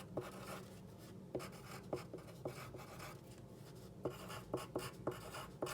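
Quiet handwriting sounds come close up: soft scratchy pen strokes in short bursts with brief pauses between words, unaccompanied by speech.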